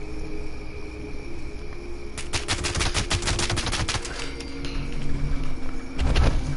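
A quad-ammo gun in Fallout 76 fired in a sustained rapid burst: dense, even crackle of repeated shots over a low ambient hum, ending with a heavier thump.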